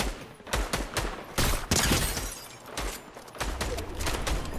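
Gunfire in the video game Fortnite crackles in rapid bursts and single sharp shots, several loud volleys in a row with short gaps between them and no talk.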